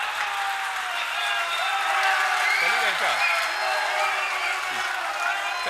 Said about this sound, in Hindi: सर सबसे ज्यादा ताली तो आप बजा रहे हैं।